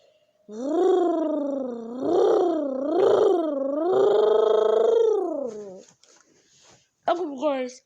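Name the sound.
soda can imitating Lamborghini engine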